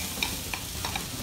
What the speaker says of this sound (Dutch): Ondertussen de groentes aan het fruiten zijn in de pan